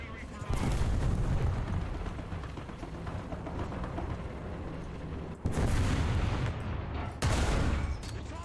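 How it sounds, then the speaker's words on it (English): Heavy artillery-style explosions and gunfire in War Thunder during an M3 Lee tank battle, with a sustained rumbling barrage breaking into fresh loud blasts around the middle and near the end, with some speech underneath. "The enemy is preparing for artillery barrage"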